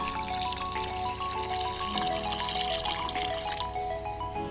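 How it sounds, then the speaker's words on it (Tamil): Steady water pours and splashes into a pot of millet sambar, a continuous rushing trickle with faint dripping near the end. "அதுக்கு தேவையான தண்ணி ஊற்றிக்கலாம்"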